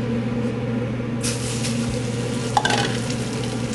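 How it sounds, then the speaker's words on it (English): Italian sweet and hot sausage browning in a pan, a sizzle that swells up partway through with a clink or two of a utensil, over a steady low kitchen hum. "we're going to brown a little bit of sweet and Italian sweet and hot sausage"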